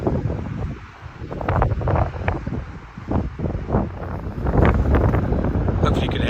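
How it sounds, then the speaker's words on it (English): Wind buffets the microphone in loud, irregular low gusts and rumbling thumps on the South West Coast Path between Portreath and Porthtowan, Cornwall, with a voice faintly audible underneath. "It's a little bit windy in this bit"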